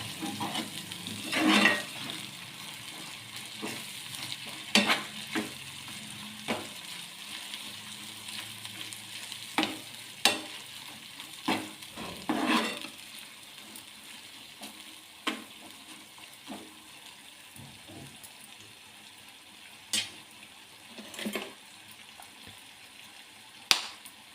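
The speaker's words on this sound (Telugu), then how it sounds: "లో ఫ్లేమ్లో పెట్టుకొని స్టవ్ అల్లం పేస్ట్ పచ్చివాసన పోయే వరకు మిక్స్ చేసుకోవాలి" Ginger paste is stirred in a pan over a low flame, giving faint sizzling with repeated scraping and tapping strokes of a spoon against the pan at irregular intervals.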